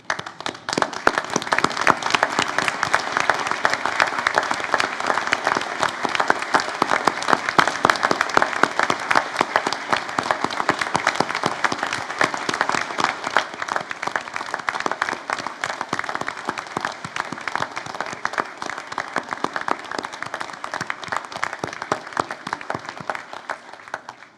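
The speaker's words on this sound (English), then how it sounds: "for everyone else to stand and join me in applauding their wonderful achievements" A standing audience applauds graduates at a University of Newcastle graduation ceremony in Port Macquarie, Australia: sustained, even clapping from many hands that carries on steadily for over twenty seconds with no talking.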